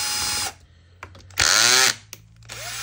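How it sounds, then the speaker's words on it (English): A power drill fitted with an Allen key bit whirring in three short bursts, loud and close, each spinning up and winding down with quiet gaps and faint clicks between. "I just happen to have the Allen key done here in a drill format"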